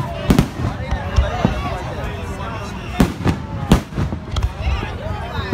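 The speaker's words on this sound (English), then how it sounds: "y'all enjoy these motherfucking fireworks" Fourth of July fireworks burst in sharp, irregular bangs, some in quick pairs, over a background of people talking and crowd murmur.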